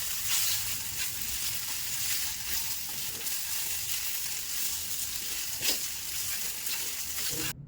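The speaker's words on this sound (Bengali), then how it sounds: "অনেকটা সময় নিয়ে পিঠাগুলো ভেজে নিলাম" Pitha cakes frying slowly in a pan over a low gas flame, a steady close hiss of hot oil with a few faint pops throughout.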